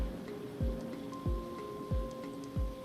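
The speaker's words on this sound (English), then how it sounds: "This is indeed a terrible rain." Rain in an RPG Maker game, a steady wash of rainfall with a low thump recurring about every 0.65 seconds, and faint tonal game music playing along.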